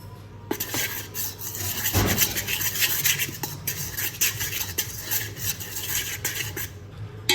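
A spoon scrapes and stirs sugar into donut batter in a bowl, a steady close rasping and clinking swirl that runs continuously without pause and without any voices.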